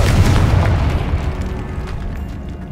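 A Confringo fire spell bursts in Hogwarts Legacy: one loud, heavy boom at the start, followed by a rumbling low roar that slowly fades over the next few seconds, with no talking.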